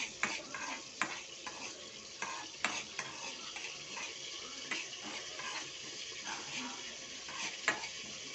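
Dry spices and poppy seeds roasting in a pan for a stuffed eggplant curry, stirred with a spatula that scrapes and clicks repeatedly against the metal over a soft, steady sizzle, close by and with no one talking.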